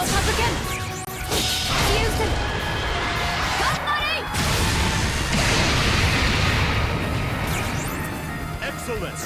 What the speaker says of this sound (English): that's pretty much the photon ray on Altera Noble Phantoms, which is freaking awesome